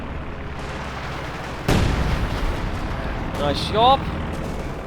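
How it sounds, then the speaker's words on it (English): A heavy artillery shell bursts with one loud, sudden boom aimed at an IS-2 tank in a World War II strategy game, followed by rumbling battle noise and a brief voice. "looks like he's trying to get the IS-2 here with the artillery"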